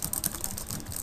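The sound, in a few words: typing on a computer keyboard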